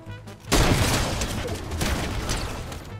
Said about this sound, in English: I'm getting shot by somebody else